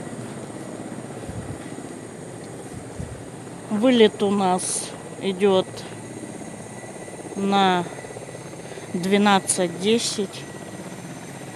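A helicopter at a heliport on a route to Salekhard gives off a steady, fairly distant engine and rotor drone that runs under a person's talking throughout.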